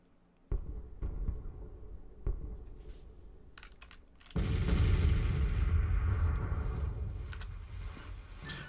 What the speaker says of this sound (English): These are 14-pounder Jameses, and they're already firing on that cavalry that's coming in.